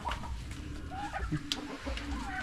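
Chickens clucking on a Filipino backyard farm where hens are laying eggs, several birds calling in short irregular bursts close by over steady low outdoor background noise.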